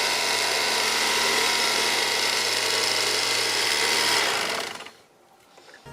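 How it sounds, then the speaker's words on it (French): An electric meat carving knife saws through mattress foam with a loud, steady reciprocating buzz, rattling mechanically for about four seconds before the motor stops and the sound drops away. "Le couteau électrique il coupe super bien, on a l'impression de couper dans du beurre."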